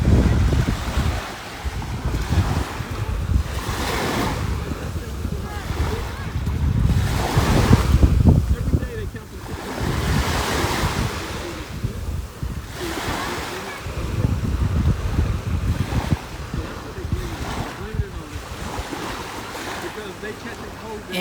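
Ocean waves splash and wash ashore in repeated surges, loud and close, with wind gusting across the microphone and a few spoken words mixed in.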